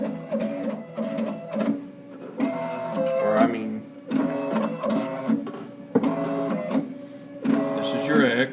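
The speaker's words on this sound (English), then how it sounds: "It's the Z-axis stepper motor." The Z-axis stepper motor of a Sherline CNC mill runs in stuttering, buzzing pulses with pitched whirring tones that start and stop in a repeating pattern, close and fairly loud.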